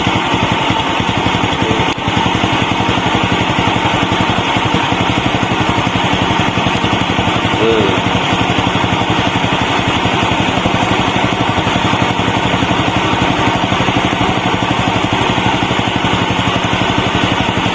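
A Viar motorcycle engine idles steadily with a constant rapid mechanical chatter and hum that never rises, close and loud throughout, with no voices.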